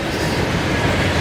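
A CSX manifest freight train rolls past close by, a dense continuous rumble and wheel clatter filling the brief moment with no pause.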